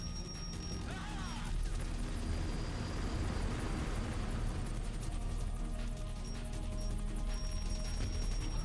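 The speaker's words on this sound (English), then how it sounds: "let's kill this helicopter" Helicopter in Metal Gear Solid: The Twin Snakes, a steady dense rotor and engine roar sustained throughout amid gunfire and crashing explosions during a boss fight on hard mode.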